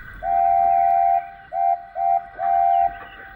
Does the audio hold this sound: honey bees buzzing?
no